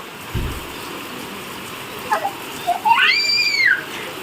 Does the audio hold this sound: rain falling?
yes